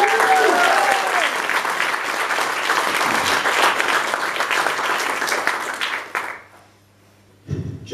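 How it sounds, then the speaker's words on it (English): Applause from a gathered audience follows a speech, dense and loud for about six seconds before thinning to scattered claps and quiet, with a voice returning at the end. "I think you deserve a big cheer"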